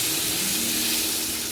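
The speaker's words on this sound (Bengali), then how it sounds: "এবার আলুটাকে আমি একটু ভালো করে ভেজে নেব।" Potatoes and sliced onions frying in a pan give a dense, continuous close-up sizzle and hiss, steady and loud for a brief moment without any talking.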